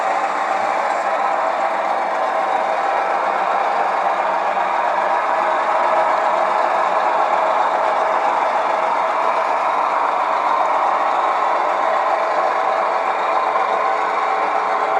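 Locomotive on Bill Mourey's Finger Lakes Railway running at full throttle, a loud, steady broadband engine roar that holds unbroken from start to finish with no voices over it.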